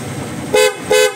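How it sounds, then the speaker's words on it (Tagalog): Two short, loud blasts from a newly installed horn on a Honda Click 125 motorcycle, close up, the second following the first after a brief gap. "Ayan yung loud horn natin."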